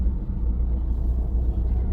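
Congested traffic in Panvel makes a continuous deep rumble of idling and slow-moving vehicles. The drone is even and muffled, with no voices over it.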